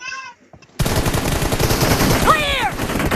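Heavy, continuous automatic gunfire in PUBG Mobile kicks in abruptly after a short electronic tone and a moment of quiet, running loud and sustained with a brief voice-like sound over the shots.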